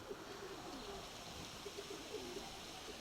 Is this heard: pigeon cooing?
yes